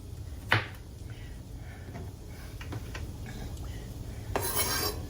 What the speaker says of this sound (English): And then I can get my big pan out.